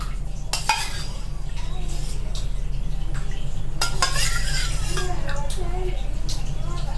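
Curd is poured and stirred into a pumpkin curd pachadi with a spoon clinking and scraping against the vessel, over a constant low hum and a faint background voice.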